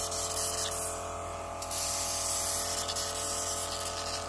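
An airbrush sprays black paint with a steady hissing jet that briefly breaks and sputters before carrying on, fairly close, with no speech.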